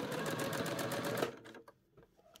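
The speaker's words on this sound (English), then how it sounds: "Sewing through the lining and the fabric." A sewing machine running a straight stitch at length four through lining and fabric, a fast, even mechanical whir for about a second, then stopping, followed by faint handling clicks.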